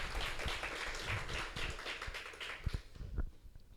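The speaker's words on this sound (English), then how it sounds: "Shall we all together applaud this moment once again?" Crowd applause at a Guru Poornima celebration in Hyderabad, a broad steady wash of many hands clapping for several seconds, with a few sharper close claps near the end.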